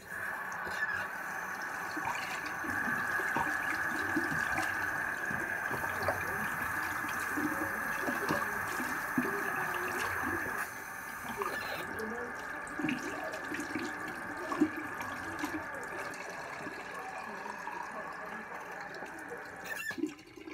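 A faucet runs warm water to fill a water flosser, a steady hiss and splash flowing continuously at moderate volume, with faint background sounds and a brief change in the flow partway through.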